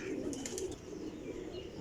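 Faint, low cooing from a flock of flying-breed pigeons drifts in a soft continuous murmur, with a few higher chirps near the start.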